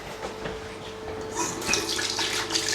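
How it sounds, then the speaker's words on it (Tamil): A bathroom tap runs at a lakeside holiday house in Wales, giving a steady splashing hiss of water into a sink that grows louder and fuller partway through, with no talking. "தண்ணி வருது,"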